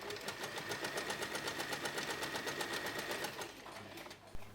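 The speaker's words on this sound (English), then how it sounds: "Tuck in the raw edges of the lining and sew the opening closed." A sewing machine runs steadily while stitching the opening of a fabric phone pouch closed, its fast, even needle rhythm continuing for about four seconds before stopping with a small clunk.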